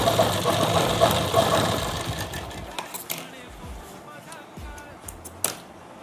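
A sewing machine runs a straight stitch on salwar fabric with buckram strip as a fast, steady mechanical whirr for about three seconds. It then stops, leaving faint handling taps and a sharp click near the end.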